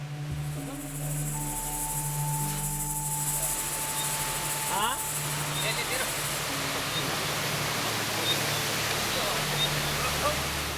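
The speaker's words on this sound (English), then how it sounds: "the sound of the water rushing through the structure seems to unsettle the elephants" Water rushes through a dam structure on the Babai River in Nepal, a broad, constant roar like a waterfall, filling the whole stretch beneath a narrator's voice.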